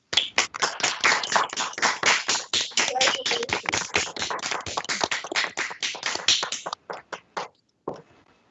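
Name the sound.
applause from the court panel for newly admitted attorneys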